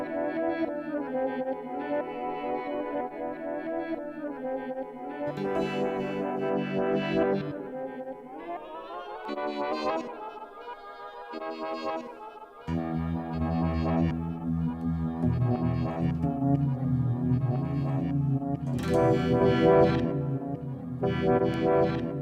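A guitar runs through the Uni-V modulation effect of a BOSS ME-80 multi-effects pedal, playing chords and phrases with a swirling, shimmering tone and echoing tails, continuous and moderately loud for about twenty seconds.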